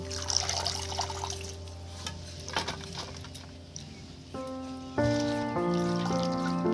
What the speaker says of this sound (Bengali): বন্ধুরা বাঁধাকপিগুলো দেখুন কেটে আমি ধুয়ে নিচ্ছি।